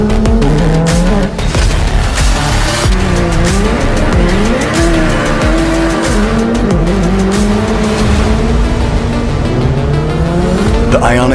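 The Hyundai N RN24, an electric race car with the Ioniq 5 N powertrain, is driven hard with loud, sustained tire squeal and skidding, pitch sliding up and down through continuous slides, close and dominant throughout.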